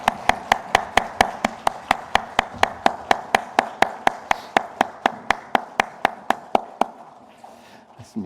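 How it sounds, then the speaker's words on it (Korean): A church congregation claps in steady unison at about three claps per second. The sharp, even beats carry on for roughly seven seconds, then stop. "하나님께 영광의 박수 올려드리겠습니다"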